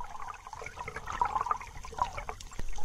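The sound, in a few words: Adams River current flowing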